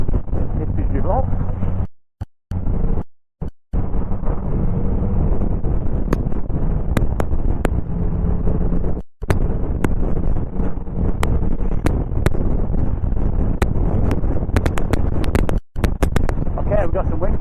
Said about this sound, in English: We've got some wind coming in there.